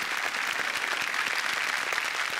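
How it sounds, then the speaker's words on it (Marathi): An audience applauds for Jayant Bhise at a Marathi comedy show taping, a continuous, even wash of clapping that holds at a steady level throughout with no talking over it. "जयंत भिसे यांच्यासाठी जोरदार टाळ्या झाल्या पाहिजेत."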